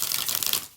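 Tarot cards shuffled by hand in one quick, crisp riffle of papery flutter lasting under a second, close and fairly loud, ending abruptly.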